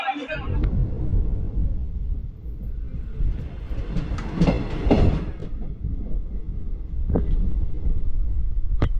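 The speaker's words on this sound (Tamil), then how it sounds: "நம்ம கரெக்டாக மாம்பலம் ரயில்வே ஸ்டேஷனில் வண்டி எடுத்திருக்காங்க" A passenger train pulling out of Mambalam railway station rumbles steadily from inside the carriage, with a few sharp clanks rising over the drone and voices faintly mixed in.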